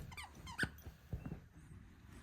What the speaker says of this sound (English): We've just got a second dog, which you may hear barking in the background